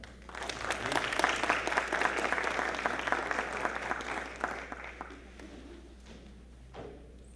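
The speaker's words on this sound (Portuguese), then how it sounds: "Por favor, uma salva de palmas para o" A crowd breaks into loud, dense applause that holds steady, then thins out and fades to scattered claps near the end.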